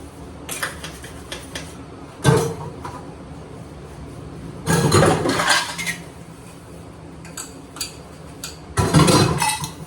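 Dishes and cutlery clatter and clink in short bursts, with running water and quiet pauses between the louder clusters of scrubbing and stacking.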